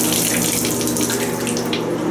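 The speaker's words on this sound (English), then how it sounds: "The shower's got quite a bit of pressure." Hotel shower at a Quality Inn running with strong water pressure, a loud, steady hiss of spraying water that fills the space without a break.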